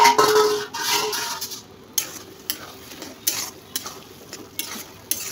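A spatula stirs ash gourd in a cooking pan. A loud scrape opens the sequence, followed by a series of sharp, irregular knocks and scrapes against the pan over a faint background sizzle.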